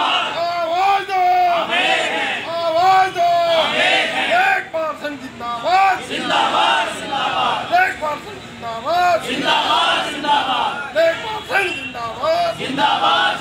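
Lekhpal revenue officials stage a work-boycott sit-in at a Ramlila ground, a crowd of protesters chanting slogans in loud, rhythmic, repeated shouts that continue without pause.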